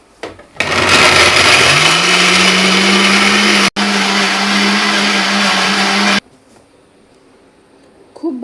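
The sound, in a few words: mixer grinder grinding tomato, garlic, onion and chilli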